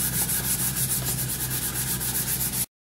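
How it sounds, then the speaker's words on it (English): Rapid, steady back-and-forth scratching of 220-grit sandpaper by hand over a wooden cutting board edge, close and continuous for most of the clip, then stopping abruptly. "I'll just use some hand paper on that. Get those all rounded and smooth."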